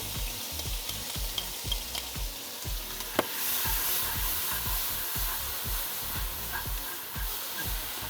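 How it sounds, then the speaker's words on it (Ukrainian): Onion sizzles and crackles steadily in a hot pan for bulgur pilaf, with repeated scraping strokes of a utensil stirring at a regular pace. "Розігріта посуда і вже так одразу скварчить все в мене. Висипаємо сюди цибульку."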